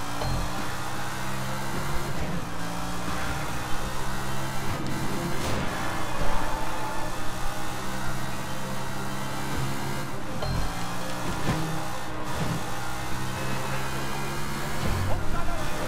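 A car in the video game Sleeping Dogs drives with a steady low engine hum throughout, with someone talking over it.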